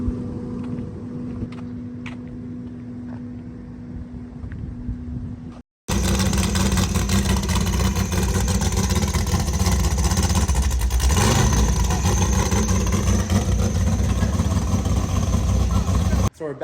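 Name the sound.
Ram pickup truck driving, towing a trailer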